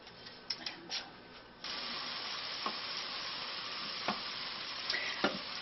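Chopped vegetables for a zucchini bisque sweat in a hot pan with a steady, moderate sizzle that swells partway through, with a few soft clicks and stirring scrapes but no talking.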